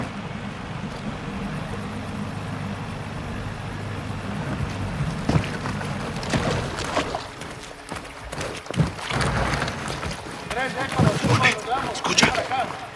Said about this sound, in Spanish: Esa es su lancha.